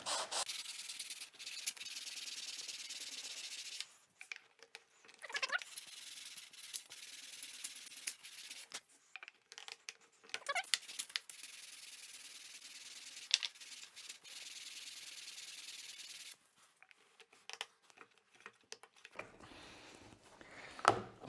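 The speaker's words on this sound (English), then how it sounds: "take a bit of sandpaper on a flat surface" Sandpaper rubbed over a wooden fence piece laid on a flat surface while fitting a shooting board and bench hook, heard as steady scratchy strokes in several close bursts with short pauses between.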